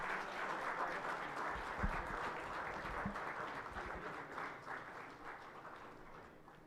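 A large audience applauds for the chief minister of Gujarat at a formal event, dense and steady clapping that holds at full strength for several seconds before easing slightly near the end.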